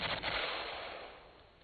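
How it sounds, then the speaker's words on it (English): An M16 rifle fired on full automatic, a dense roaring burst of rapid shots that quickly fades out, heard at a moderate distance. "to complete your training with the M16, you fire it automatic from 3 different positions"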